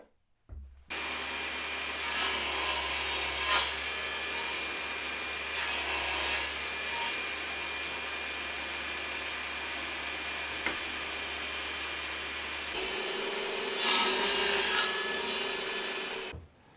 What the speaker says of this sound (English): I'm gonna get that marked out and get some bits cut to length.